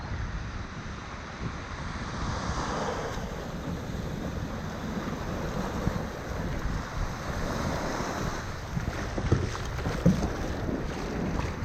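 A boat moving on open sea water off a beach in Varadero, Cuba, with waves splashing and sloshing against the hull and gusty wind buffeting the microphone throughout.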